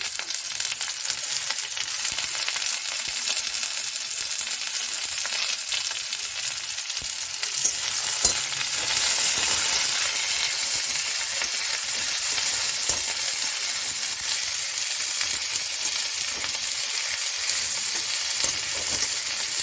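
Chopped onions fry in a pan for spicy semolina, a steady loud sizzle running throughout with occasional stirring scrapes and no talking.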